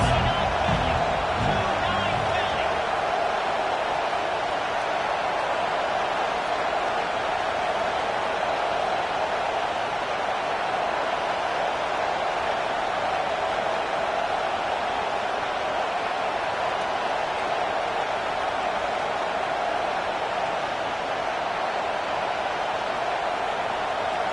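Stadium crowd noise in the NCAA 25 football video game is a steady, dense roar of spectators that holds level throughout at high volume, with no distinct cheers or breaks.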